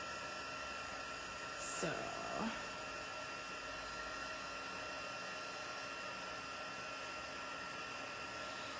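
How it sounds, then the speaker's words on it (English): Heat tool blowing steadily while melting embossing powder on a card, a continuous fan-like whoosh at moderate level, with a brief voice over it near the start. "just heating this to heat emboss it"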